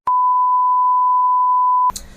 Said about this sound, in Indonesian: bentar, alarm HP muni.